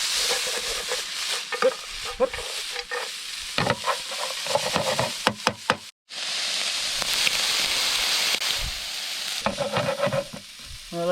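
Marron pieces and cores sizzle and fry in a pan by a river, a close, dense hiss with bursts of crackling and scraping stirring that pauses briefly midway and resumes.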